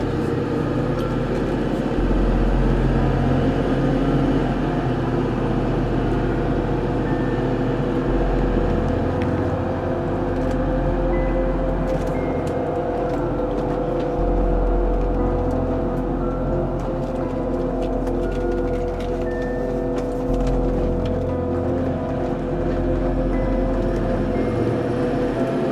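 Steady low rumble of a 2009 Ford F-350 pickup with the 6.4L diesel, heard from inside while driving on a morning ride, a continuous road and drivetrain drone with no talking.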